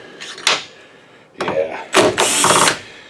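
A 4mm tool works long M4 fasteners loose on a DLP projector in a series of close mechanical clicks, ratcheting and metallic rattles, arriving in separate bursts with short pauses between them.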